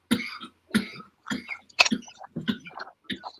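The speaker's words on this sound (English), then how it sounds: "that's a bad cough." A bad cough during a radio show: a run of six or seven rough, throaty coughs in a steady rhythm, close and fairly quiet, with no talk.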